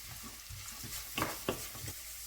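Garlic and chopped onions fry in a pan with a quiet, low sizzle and a few soft scrapes or stirring bumps near the middle, and no voice over it.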